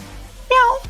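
A person imitates a cat's meow with one drawn-out, rising-and-falling vocal meow, close and fairly loud, after a short quiet pause.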